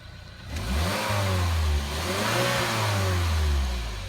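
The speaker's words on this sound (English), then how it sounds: "As she revs it up, you should be able to hear the sound of the turbocharger hissing." A turbocharged Saab car engine revs up from a quiet start, a loud, steady mechanical roar that rises and swells in pitch, with a faint hiss running through it and no talking.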